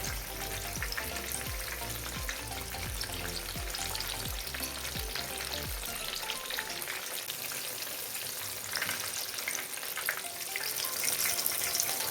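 Fish frying in hot oil over a high gas flame, a dense, continuous crackling sizzle heard up close, with regular low knocks in the first half that then stop; no voices.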